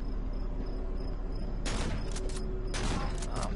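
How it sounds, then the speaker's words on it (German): Two loud shotgun blasts from the Cry of Fear video game, each a sharp broadband burst with a short decay, fired about a second apart over a steady droning, insect-like background ambience. "Ah, man sollte halt nicht daneben schießen"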